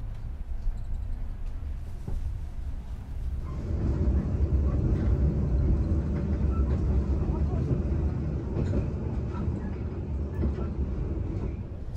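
A Pasundan economy class train pulling out of Cipeundeuy station, its steady broadband rumble of wheels on rails swelling louder after a few seconds and holding as a continuous close roar, with voices faintly under it.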